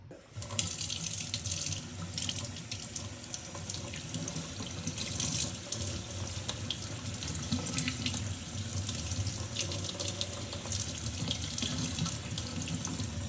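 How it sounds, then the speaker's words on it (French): Cold tap water runs steadily over an S&S K&N air filter for a 2008 Harley-Davidson Softail Cross Bones, a continuous close splashing rinse in a sink with no talk. "Et on rince à l'eau froide."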